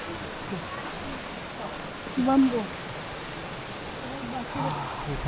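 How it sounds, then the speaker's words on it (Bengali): Waterfall water running down over rocks on a rainy Meghalaya bamboo trail trek, a steady broad rushing wash heard at moderate distance, with a brief voice partly over it. "এই সামনে ঝর্ণার জল নামছে"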